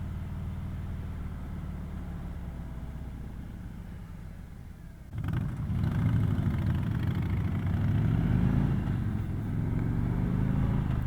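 A 2018 Harley Davidson Road King motorcycle ambles along at slow riding speed, its engine a low steady rumble that swells noticeably louder about halfway through and stays strong, with wind noise and no talking.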